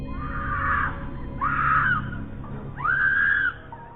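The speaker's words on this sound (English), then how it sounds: "Her voice could be heard screaming for help from a distance." A woman's distant, thin screams rise and fall in three separate cries, recorded from afar with steady background noise.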